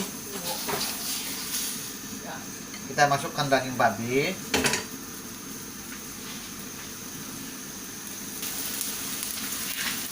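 Raw pork drops into a hot pot on a lit stove, then a clatter of metal utensils and a steady sizzling hiss as the meat starts to cook, close and fairly loud.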